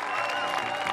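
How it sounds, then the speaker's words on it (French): A short burst of audience applause with a hint of cheering, dense and continuous for a brief moment in a live show setting. "Allez, on l'applaudit bien fort, Thomas!"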